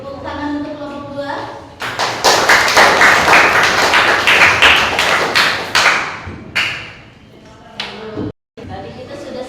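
Classroom applause for a student group after their presentation, a dense burst of many hands clapping close by for several seconds, fading out with scattered claps and a brief pause at the end.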